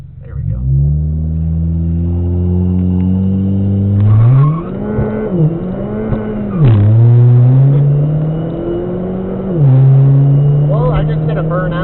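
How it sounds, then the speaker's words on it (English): Car doing a burnout at Epping Dragway at night, engine revving hard in repeated surging pulls with rising and falling pitch, loud and close, with tire noise and faint background voices. "I just did a burnout"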